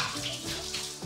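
Cold shower water pours in a brief continuous splashing rush at a bathhouse in Ireland, close by and fairly loud.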